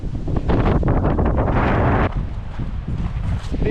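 Strong wind sweeps a New Zealand mountain ridgeline among the trees, a loud buffeting roar with heavy microphone rumble that surges for two seconds and then eases slightly.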